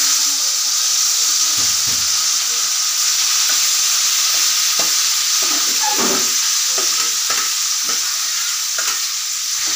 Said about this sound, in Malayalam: പുളി നന്നായിട്ടൊന്ന് യോജിപ്പിക്കാം.